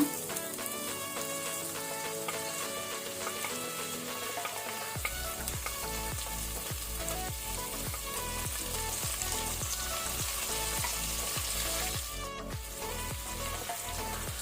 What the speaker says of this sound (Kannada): ಈಗ ಈರುಳ್ಳಿಯನ್ನು ಒಳ್ಳೆ ರೀತಿ ಫ್ರೈ ಮಾಡ್ಕೊಳ್ಳುವ, ಕಲರ್ ಚೇಂಜ್ ಆಗುವ ತನಕ